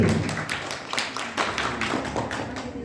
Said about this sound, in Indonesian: Tepuk tangan untuk regu D.